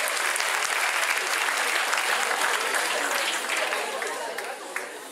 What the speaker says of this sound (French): Vous pouvez vous applaudir, je pense.